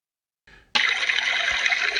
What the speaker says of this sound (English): here you can see how the water comes off from the top of the slick plate